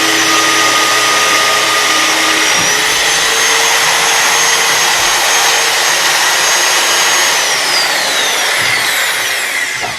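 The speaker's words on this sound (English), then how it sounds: "So this is my first actual hole drilled with this mag drill and 5/16 cobalt drill bit." A magnetic drill bores a hole with a 5/16 cobalt bit, its motor whining loud and steady for the whole stretch with a high cutting tone that shifts in pitch as the bit bites, and no talking.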